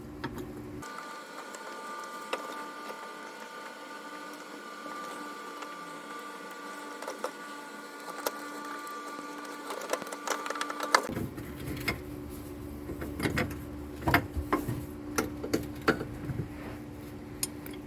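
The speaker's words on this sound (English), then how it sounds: "So we're just removing the last bolt here for this bracket so we can" Ratchet work on a bracket bolt of a 2010 Toyota Corolla 1.8 during clutch removal: after a steady hum, a burst of sharp clicks and metallic clatter follows, close by and moderately loud, with no speech.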